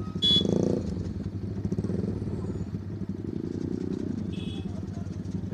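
A motorcycle engine rumbles steadily close by, with a brief high horn-like chirp near the start and another near the end, people talking faintly underneath.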